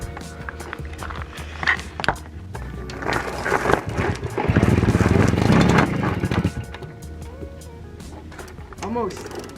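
A Piaggio Ciao moped under restoration, freshly fitted with a carburetor and fuel, cranked in a start attempt: mechanical rattling and clanks build into a loud, rough sputtering burst for a couple of seconds, then fade back to clatter.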